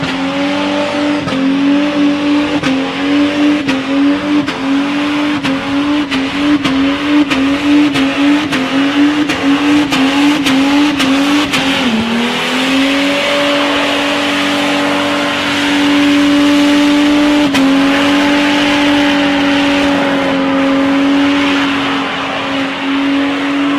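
A Holden VT Commodore Super 6 at a street drag meet is held bouncing on its rev limiter, a loud, steady stuttering drone that drops briefly, then climbs back to a sustained high rev.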